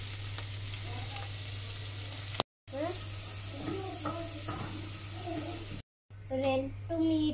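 Onion fries in a pan for Maggi noodles with a continuous close sizzle, a steady mains hum underneath and a voice speaking over it in short bursts, broken by two brief gaps of silence.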